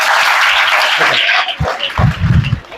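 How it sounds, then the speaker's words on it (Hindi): Brief burst of applause from students at a Bihar government school career guidance session, a dense wash of clapping that fades out after a couple of seconds, followed by a few scattered louder claps. "इनके लिए ताली बजा दो।"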